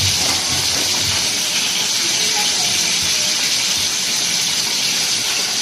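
Koi fish frying in a pan with coconut-milk curry cooking underway: a steady, broadband hiss and sizzle of hot oil holds evenly and fairly loud throughout, with no talk over it.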